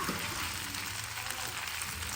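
Spaghetti noodles tossed in a hot pan give off a dense, even sizzle that holds steady throughout, with only faint stirring movement underneath.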